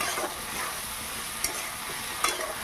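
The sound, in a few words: lightly stirring ground paste in frying pan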